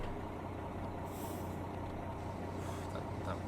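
Heavy truck engine labouring under load in American Truck Simulator, a steady low droning rumble throughout with a brief hiss of air in the middle, loud and continuous with no talking.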